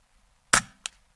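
A single shot from an Air Arms S510XS Stealth Carbine .177 air rifle fitted with a Hawke Frontier scope during backyard plinking: a sharp, close crack followed a moment later by a fainter click or impact, with quiet around it.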